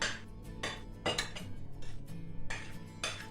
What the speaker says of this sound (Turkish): bunun yağını karıştırıyorum böyle bu şekilde